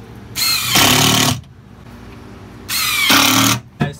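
Power drill driving into a deflector piece on a bus-to-home conversion, two loud whirring bursts, each about a second long, close by and separated by a short pause.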